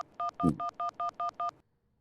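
A telephone being dialed: seven evenly spaced touch-tone beeps in quick succession, close and clear, with a brief thump partway through before the tones stop.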